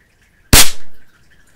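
A single sharp crack from a Crosman air pistol being fired, loud and close, with a short decaying tail in a quiet room.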